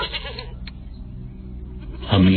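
Frightened goats, scared by a wild dog, bleat loudly near the end after a stretch of low rumbling background noise.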